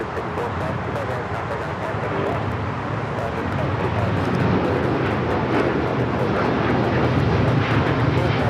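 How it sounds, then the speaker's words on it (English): An El Al Boeing 787-9 airliner roars steadily through its takeoff from LAX bound for Tel Aviv, a broad, sustained engine rumble that swells slightly louder toward the end and carries no break. "That is LL Flight 6 taking off to Tel Aviv"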